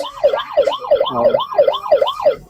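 Toy police car siren, a wailing electronic tone rising and falling in quick regular cycles, loud and close with no talk.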